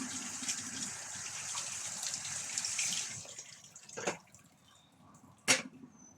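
Cold tap water pouring over freshly boiled food in a sink, a steady gushing splash for about three seconds that then stops, followed by a couple of short sharp splashes and drips.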